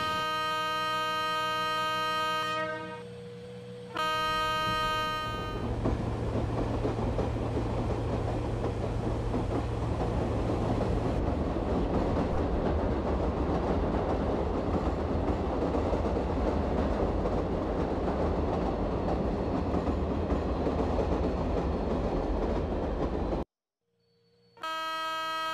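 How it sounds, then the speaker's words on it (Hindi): A Swarna Jayanti Express train in a simulator game rolls with a steady, loud rumble and clatter of wagons, opening with a tonal horn blast and ending in brief silence before a final tone. "हमारा आनंद से हमारा स्वर्ण जयंती ट्रेन शुरू हो गया गाइस"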